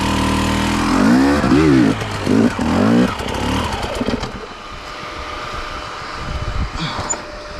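A hard enduro dirt bike engine revs hard with rising and falling pitch as it climbs a steep line, then cuts out and leaves quieter scuffing and rustling.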